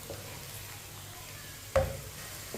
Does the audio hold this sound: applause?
no